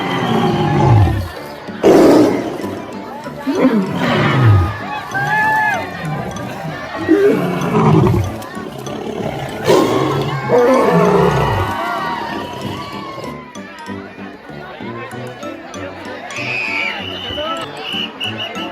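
A tiger at Byculla zoo in Mumbai lets out repeated deep, loud roars and grunts nearby over a noisy crowd, with people talking and shouting throughout.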